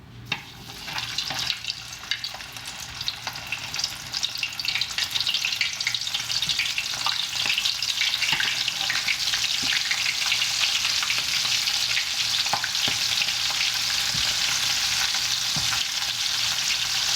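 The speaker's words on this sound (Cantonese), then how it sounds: "我可以開始炸啦" Shrimp deep-frying in very hot oil for salt and pepper crispy shrimp, a loud, dense bubbling sizzle that builds over the first few seconds and then stays steady and close with no talking.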